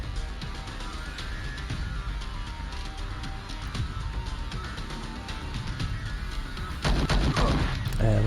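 Gunfire from tactical starship combat in the sci-fi game Star Traders: Frontiers: a dense, continuous run of rapid shots over low rumble, swelling into a louder, heavier burst near the end.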